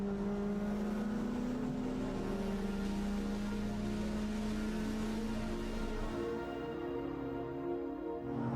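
A street-racing car drives on Tokyo's C1 loop, heard from the passenger seat: a loud, steady engine drone holds a sustained pitch throughout, with road and wind noise underneath and no talking.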